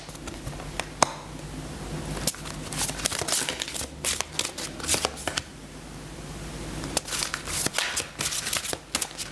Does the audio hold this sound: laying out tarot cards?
yes